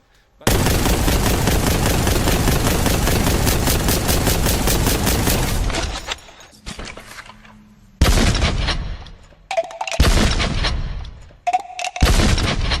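Loud, close gunfire in Warhammer 40K: Boltgun: a fast sustained burst, then several separate heavy shotgun blasts with short gaps and ringing tails between them.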